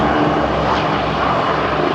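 A Lockheed P-38 Lightning, the twin-engine propeller fighter, flies past at the ILA Berlin 2018 air show, its engines giving a loud, steady roar that fills the two seconds with no talk over it.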